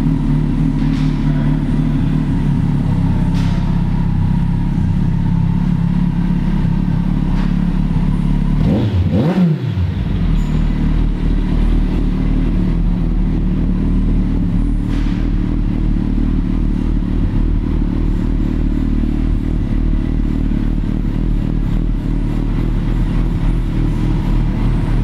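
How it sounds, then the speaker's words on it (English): A 2009 Kawasaki ZG1400 Concours sport tourer fitted with a Two Brothers exhaust idles with a steady, loud, close low rumble, broken near the middle by a quick rev that rises and drops, with no talking. "You can hear that Two Brothers system on it. It's got a nice rumble to it."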